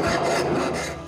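A wood rasp scraping across a carved wooden lion's foot for a TV lift cabinet, coarse rasping strokes in quick succession, close and fairly loud, with no voices.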